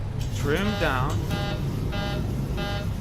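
Repeated electronic cockpit warning beeps in a flight simulator sound in regular bursts, about three evenly spaced, while a voice speaks briefly at the start over a low hum.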